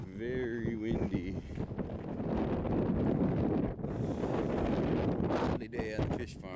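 Strong wind roars steadily across the microphone in a snowy blizzard at a fish farm, with gusting rumble and a brief voice-like tone near the start.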